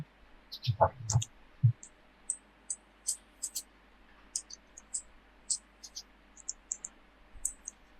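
Computer mouse clicks, a quick series of sharp, faint clicks spaced irregularly over several seconds, with a few low thumps near the start and no talk.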